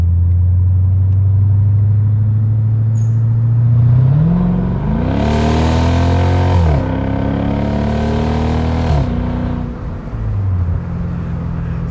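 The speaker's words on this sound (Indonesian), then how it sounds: "suara mesin juga terdengar lebih jelas gitu, derumannya tuh asik sekali terdengarnya." A Mercedes SLK 55 AMG runs with its roof open, its deep engine rumble steady at first, then rising in a strong rev, held and dropping back, loud and close with no talking.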